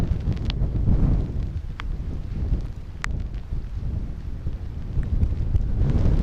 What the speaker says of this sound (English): Very windy, raining hard, but absolutely amazing.